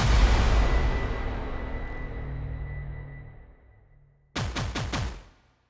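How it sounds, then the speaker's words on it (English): Short orchestral hit sample with a fast attack and short release, sounding as four quick, punchy stabs in a tight rhythm after a decaying wash of sound. "you can instantly create like a short hit that initially sounds like this"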